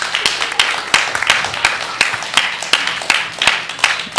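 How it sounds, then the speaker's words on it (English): A crowd gives a round of applause at a nuclear fusion event: sharp, distinct claps over a continuous clapping wash, close and fairly loud throughout, with a few cheers mixed in. "round of applause"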